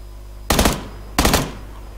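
Two short bursts of automatic rifle fire in the battle-royale game PUBG Lite, each rattling for about a quarter second, separated by a brief pause over a low background hum.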